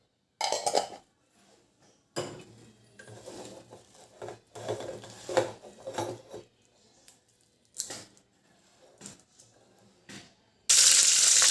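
Metal spoon scraping and clinking against a bowl while medu vada batter is mixed, heard in irregular short bursts with quiet gaps, ending in a louder sustained rustle.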